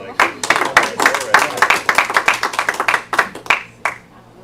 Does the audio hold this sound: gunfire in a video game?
no